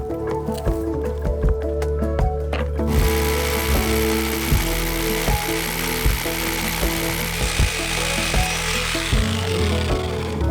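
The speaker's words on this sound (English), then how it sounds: "I've drilled through and I've narrowly avoided, I'm talking by about 1 millimeter" A power drill bores a hole through a reinforced concrete tank wall, grinding loudly and continuously with a strong buzzing hum and occasional harsher bursts, up close and alone.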